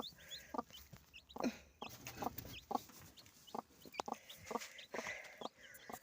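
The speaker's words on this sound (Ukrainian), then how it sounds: "Отака в мене квочечка." A broody hen with newly hatched chicks gives low, repeated clucks while the chicks cheep in high, thin chirps, close by and fairly quiet.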